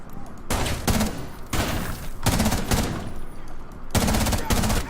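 Repeated bursts of in-game shotgun and weapon fire in Rainbow Six Siege, arriving in loud clusters of blasts separated by brief gaps over a steady noisy background.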